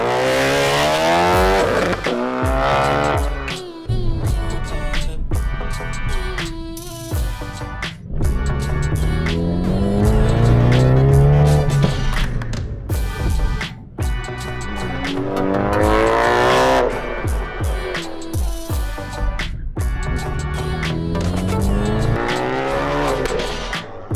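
A Ford Focus RS fitted with racing seats is thrown hard through the turns of a cone-marked track, its engine revving and rising and falling in pitch while tires squeal repeatedly, loud and close throughout.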